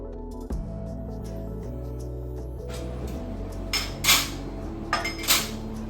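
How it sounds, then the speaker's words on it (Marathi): Steel pots, plates and utensils clink and clatter as they are stacked onto a kitchen shelf, several sharp metallic knocks rising over a steady low background hum, with no talking. "अशी भांडी आम्ही या खळात ठेवतो सो ती इथे ठेवून घेते आता"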